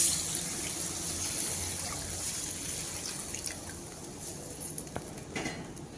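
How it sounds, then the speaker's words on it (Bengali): Water is poured into a cooking pot for a thin hilsa fish curry, a continuous splashing trickle that runs steadily and tapers slightly toward the end, with no one talking. "এবার দিয়ে দেবো ঝোলের জন্য জল।"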